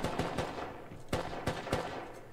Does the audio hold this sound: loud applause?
no